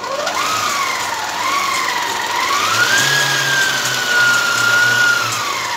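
A Silver Crest 5-litre stand mixer runs with a steady, close motor whine that rises and falls slightly in pitch over a low hum, continuous throughout with no talking.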